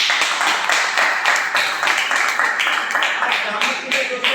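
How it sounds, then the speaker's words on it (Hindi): An audience at a company business gathering claps loudly and continuously, a dense rapid patter of many hands close by, with a voice briefly audible beneath the clapping. "इसके लिए मैं आप लोगों के लिए जबरदस्त तालियां दूंगा दोस्तों।"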